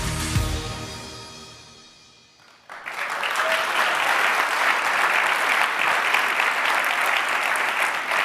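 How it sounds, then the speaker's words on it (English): At the Earthshot Prize Innovation Summit, an audience breaks into a sustained round of applause for the new class of finalists, loud, dense clapping that starts abruptly after a fading tone and holds steady to the end. "Please give them a round of applause"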